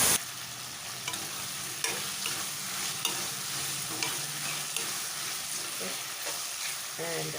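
Ginger garlic paste being stirred in a frying pan, a steady sizzle with scraping spoon strokes and light clinks across the whole stretch, close and even, no talking.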